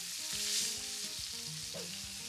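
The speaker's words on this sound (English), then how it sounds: "I am gonna cook this chicken for probably 3 or 4 minutes on the first side" Chicken sizzling steadily in a hot skillet, a constant bright crackle and hiss of frying with faint stirring or shifting underneath, no voices.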